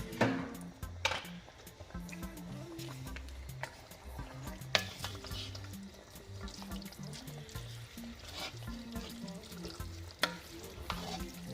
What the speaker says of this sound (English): So I'm gonna put it and fold it in the sauce